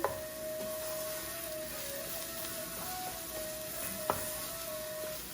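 Afghan sticky rice with spices being stirred in a pot: a soft, steady sizzle with scraping sounds of mixing, a low hum in the background and one sharp knock near the end, with no talking.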